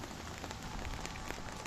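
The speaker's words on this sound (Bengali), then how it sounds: "মেঘ, হালকা পাতলা বৃষ্টি পড়ে" Light rain falls on a street before dawn, a steady soft patter that stays faint and even throughout, with no voices.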